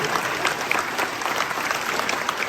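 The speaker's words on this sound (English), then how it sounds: "So if we can give a round of applause for our veterans tonight." An indoor crowd at a gun owners' awards event applauds veterans, with dense, steady clapping from many hands filling the room, loud and sustained without speech.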